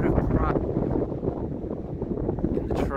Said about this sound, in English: God knows what the wind is doing to this. It is windy and freezing.